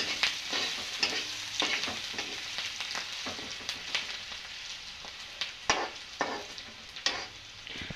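Chopped onions sizzle in a hot pan, a close, steady crackling fry broken by repeated sharp scrapes and knocks of a stirring utensil against the pan.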